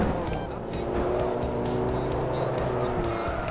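A Forza Motorsport 3 race car engine revs hard near redline, a steady loud drone with wavering pitch and faint tire noise, alone without talk.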